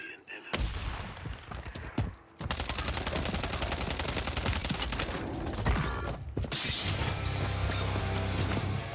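Automatic and rapid gunfire from a PC match of Call of Duty Warzone 3, loud and dense, with bursts and a brief pause near two seconds before sustained shooting resumes alongside clinks and game effects.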